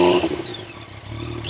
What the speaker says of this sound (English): I think that's what you want to hear when you're firing up your triple cylinder bike